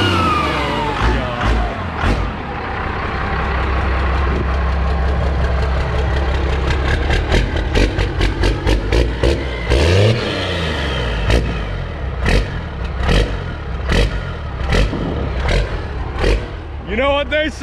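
A first-generation 12-valve Cummins diesel runs without intake piping under the hood, idling with a loud, rough, steady clatter, then a short rev. A sharp, rhythmic knocking and ticking builds toward the end, and someone talks over it.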